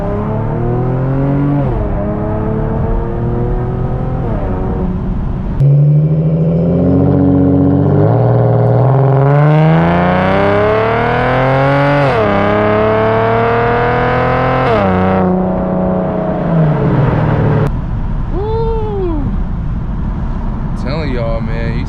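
An Infiniti G37X fitted with Vibrant resonators accelerates hard in sport mode through several rising gear pulls, the engine droning loudly from inside the cabin while a voice talks over it.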